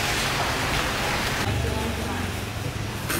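Rain falls steadily on Koh Chang island in Thailand, a broad continuous hiss that fills the scene from start to end, with no talking.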